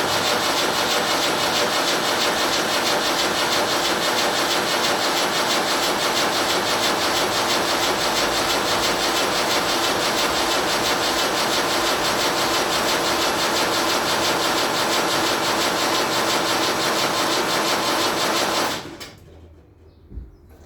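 A Land Rover Series 3 diesel engine cranks over steadily on the starter, a loud continuous mechanical churn lasting about nineteen seconds before cutting off abruptly into near silence.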